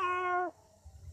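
A voice imitates a domestic cat meowing: one short, harmonic meow that stops abruptly, followed by quiet room noise.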